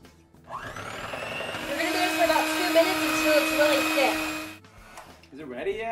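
An electric mixer whirs steadily as it beats thick nougat with powdered sugar for a homemade Baby Ruth bar. Its pitch strains under load, and a voice speaks briefly near the end.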